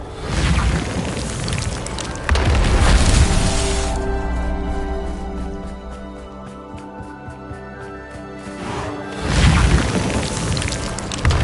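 Casting the Reparo repair spell in Hogwarts Legacy brings loud whooshing magical bursts, a shimmering tonal sweep with rapid pulsing in the middle, and a booming swell at the end, all dense and close.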